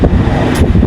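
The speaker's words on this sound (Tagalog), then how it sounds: "Lakas ng hangin." Strong wind blows outdoors, buffeting the microphone with loud, gusty low rumbling across the whole brief moment, with no voices.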